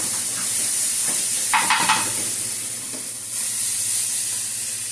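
Eggs sizzle steadily in a hot pan while a wooden spatula scrapes and pushes them across the surface in a short burst, close by and without talking.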